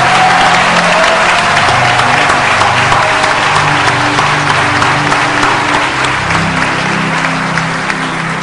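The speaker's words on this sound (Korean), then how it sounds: "Let us clap to the Lord again." Loud, continuous clapping from a large congregation at a revival meeting in South Korea, clapping to the Lord; a dense, even wash of hands with a low hum of crowd and hall sound beneath.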